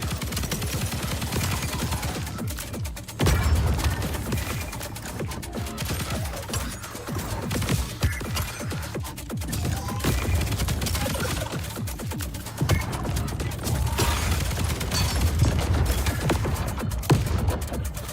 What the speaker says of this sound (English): I'm collapsing whole buildings, just because.